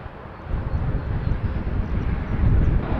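An Air Canada jet rolls for takeoff from runway 06 left at Toronto Pearson, a steady broadband engine roar building slightly louder over three seconds, with wind rumble and no voices.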